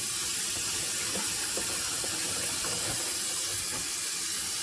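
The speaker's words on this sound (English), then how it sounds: "I'm just pretty much rinsing off the brine." Tap water runs steadily over a trimmed turkey thigh in a sink, rinsing off the brine, a continuous close hiss and splash with no talking.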